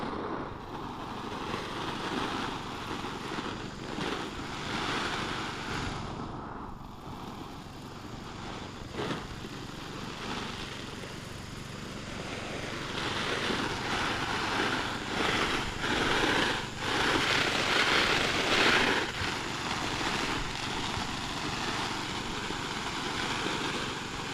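A small engine, the kind on a farm machine used for planting chili peppers in a field, drones steadily and fairly close, holding a constant pitch throughout with a slight swell in loudness partway through.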